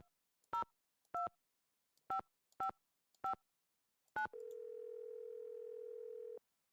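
Keypad tones from a telephone in the Nancy Drew game Secret of the Scarlet Hand: six separate beeps at an uneven pace, then a steady hum-like tone holding for about two seconds, clear and alone with no talking.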